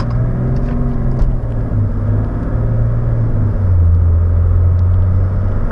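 A turbo diesel Mercedes car floored at full throttle with no boost pressure, giving a steady, loud low engine drone that slowly rises in pitch, heard alone without talk.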